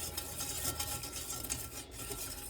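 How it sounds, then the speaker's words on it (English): A spoon steadily stirring a nut butter crunch mixture in a pan as it starts to boil, a faint continuous scraping and rubbing with a light bubbling hiss underneath, quiet and close. "So I'll be stirring it more often"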